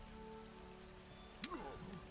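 A Freezing Rain spell effect from the strategy game Age of the Ring plays as a soft, steady patter of rain with faint tones. A sharp icy crack lands near the end, followed by brief swirling tones.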